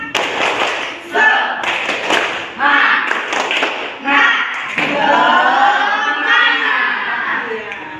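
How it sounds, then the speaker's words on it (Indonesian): A sixth-grade class performs a rhythmic spirit clap, with groups of sharp claps alternating with children chanting loudly together in a patterned call. "Tepuk semangat, bisa tak?"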